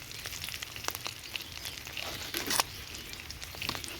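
Bay leaf, garam masala and cardamom frying in hot oil give a soft, steady sizzle with crackly pops and a brief louder crackle burst, fairly faint and close, with no talking.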